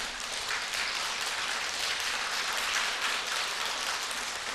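A church congregation at Sunday morning worship applauds in a steady, even wash of clapping, heard at moderate distance and at fairly low volume.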